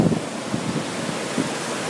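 Steady broadband rush of falling water with a low rumble, continuous and fairly loud, as a wide flow spills over a canal spillway.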